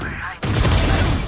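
Rapid gunfire crackles loud and close in a VALORANT esports match, a dense continuous burst erupting after a brief lull, with voices talking over it.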